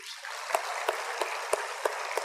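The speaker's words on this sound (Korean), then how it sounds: "그 믿음을 우리에게 주신 우리 주님께 영광의 박수를 드리겠습니다" A church congregation at a Korean Full Gospel service applauds together: a steady wash of many hands clapping at moderate distance, with a few sharper claps standing out, and no talking.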